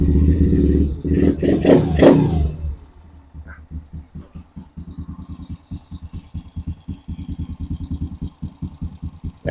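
A Honda TRX90X ATV engine on a rebuild gets a brief loud rev lasting a couple of seconds, then settles into a steady, close, rhythmic putter at idle.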